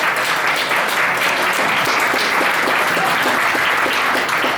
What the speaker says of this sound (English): I want everybody to give Alan a round of applause for everything he does.